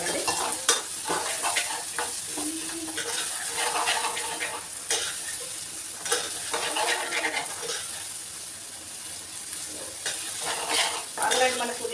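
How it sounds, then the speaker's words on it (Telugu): Ginger garlic paste frying in a pan with cooked mint for an egg tomato curry, stirred repeatedly with a spoon; scraping strokes come over a continuous close sizzle. "వేసుకొని ఇలా కలిపేసి కలుపుకోవాలండి"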